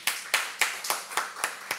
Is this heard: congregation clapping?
yes